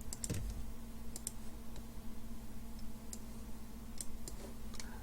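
A few scattered, quiet clicks of computer keyboard keys pressed for a save shortcut, brief taps separated by pauses in a quiet room.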